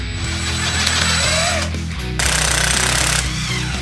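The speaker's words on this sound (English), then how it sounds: "let's try to get these rusty nuts off" Power tool, likely an impact wrench, hammering rapidly at rusty nuts and studs on a Honda Dream motorcycle, a loud close ratcheting burst that pauses briefly and resumes.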